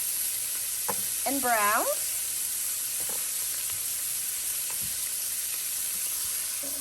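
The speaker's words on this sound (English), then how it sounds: "you're just gonna go ahead and saute the onions till they're nice and tender" Onions sauté in melted butter in a pan over medium-high heat, a soft continuous sizzle with occasional stirring clicks, while a voice speaks briefly over it.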